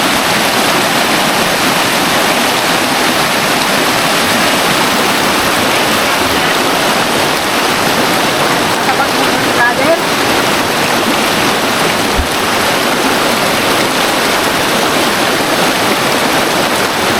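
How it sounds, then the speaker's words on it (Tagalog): Strong rushing river current, swollen from heavy rain upstream in Oriental Mindoro, roars loud and constant throughout, a dense close wash of churning water with no pauses. "Sobrang lakas pala ng impact ng tubig"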